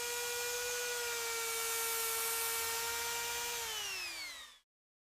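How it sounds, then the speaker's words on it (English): A steady high-pitched surgical drill whine holds constant while sectioning a wisdom tooth, splitting crown from root, then winds down in pitch and cuts off abruptly, close and alone. "A surgical drill carefully splits the crown from the root structure."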